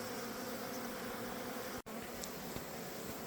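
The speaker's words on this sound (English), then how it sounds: "Just really nice boxes of bees here." A dense, steady buzz of many honey bees in hive boxes hums close by, with one brief dropout partway through.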